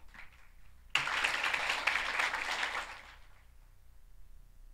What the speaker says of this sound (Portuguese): Vocês merecem uma salva de palmas para vocês mesmos